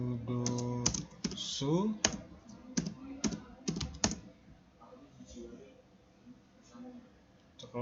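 Rapid computer keyboard typing comes in clustered bursts of clicks while commands are entered on an Ubuntu server, under a voice talking, then thins to a few sparse keystrokes.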